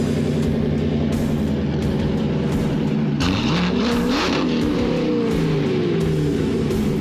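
A 1,100 hp supercharged Corvette C7 accelerates hard, its loud engine drone climbing in pitch through rising sweeps with gear changes, close and continuous throughout.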